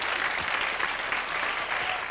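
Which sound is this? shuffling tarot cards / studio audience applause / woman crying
studio audience applause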